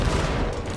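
Dense, continuous gunfire from a weapon in the video game Control, a loud unbroken burst of shots filling the whole moment with no pauses.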